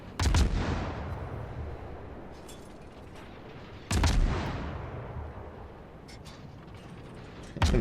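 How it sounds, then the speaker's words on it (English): Heavy warship gun volleys in World of Warships, a destroyer battle: two loud, booming salvos about four seconds apart, each a sharp blast with a long rumbling decay, and a third volley starting at the very end. "That's a nice dispersion on that last volley right there"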